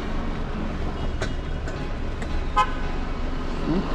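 A passing drink vendor's horn gives a couple of short toots on a street, standing out above a steady background rumble of traffic.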